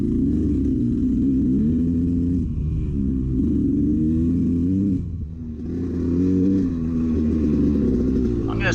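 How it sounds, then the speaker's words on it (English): A racing motorcycle engine sputters and rumbles during an AHRMA race at Renlow Park: a loud, uneven low drone whose pitch wavers and briefly drops away before picking back up. "Bike is sputtering pretty good, having a hard time getting this thing cleared out."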